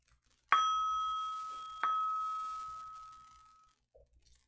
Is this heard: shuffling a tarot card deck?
no